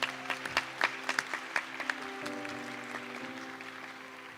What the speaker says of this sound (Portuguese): Quem crê nisso, vai e aplaude